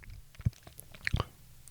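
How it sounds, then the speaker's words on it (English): Close, wet chewing and swallowing noises, a couple of louder gulps amid quieter mouth clicks, with no talking. "The swallowing noises are loud."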